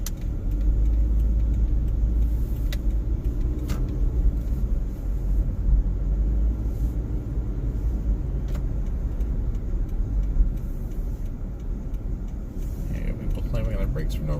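A car driving steadily, with a constant low engine and road rumble throughout and a faint brief squeal that may be the brakes; a person talks over it.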